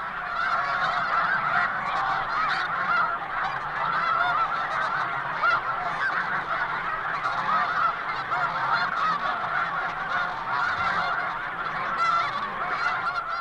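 A large flock of about 5,000 snow, blue and Canada geese honks in a dense, loud, continuous chorus on the water, with no one talking.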